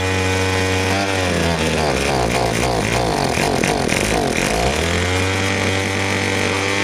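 Small petrol engine on a leaf-clearing tool running loud and steady with the choke held on, its pitch bending and wavering mid-run as the throttle is worked, then settling back to a constant drone.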